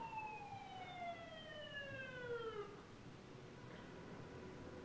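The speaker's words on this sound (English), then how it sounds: "So ambulance, actually." Ambulance siren passing outside, a faint distant wail sweeping downward in pitch over about three seconds before fading into low background noise.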